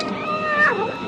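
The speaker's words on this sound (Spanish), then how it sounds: "Paseando por el cuerpo de su dueño, maulló para que se levantara." A cat in a radio drama meows once with a rising then falling, drawn-out call, close and clear, walking over its sleeping owner.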